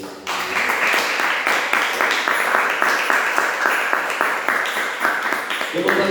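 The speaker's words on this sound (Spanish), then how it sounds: "Dele palmas al Señor." A church congregation claps along during a sermon, a loud, steady run of rhythmic hand claps filling nearly the whole stretch, with voices mixed into the clapping.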